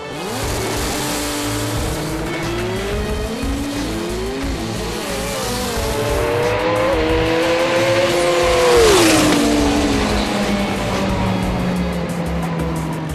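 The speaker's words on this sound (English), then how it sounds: "Joe Signorelli, stuck to form and destroyed the competition in the Gas Motorsports 2JZ powered Camry" A 2JZ-powered Toyota Camry Pro Turbo race car revs hard and accelerates, engine pitch rising through gears with tire squeal, loud and close, no talk.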